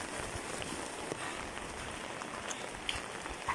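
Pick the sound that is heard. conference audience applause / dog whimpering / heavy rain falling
heavy rain falling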